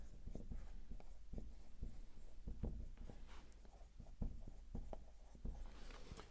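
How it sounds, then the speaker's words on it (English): Pen strokes scratch steadily across a hypertrophy programming tier list, close and dry, in short bursts with small taps between words, and no one speaking. "So I'll just write progression schemes."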